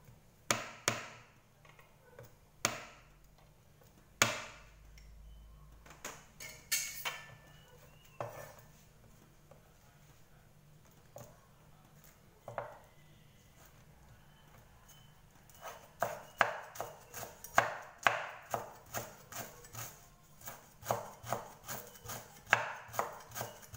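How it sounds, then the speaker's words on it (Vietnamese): A knife chops lemongrass, garlic and chili on a board, starting with scattered single strokes and building into a fast, steady run of close, crisp chops, with no talking. "mình đi băm sả tỏi ớt ha"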